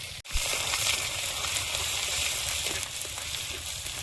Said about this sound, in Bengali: দুটো শুকনো লঙ্কা হাফ করে তেলে দিয়ে দেবো। গোটা জিরে, আদা কোড়া,